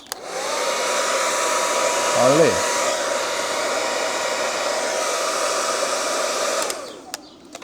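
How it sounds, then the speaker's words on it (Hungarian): A hair dryer plugged into a solar inverter and battery setup runs with a steady, loud, close whooshing roar for about seven seconds before it cuts off. "és gyorsan bedugom a hajszárítót"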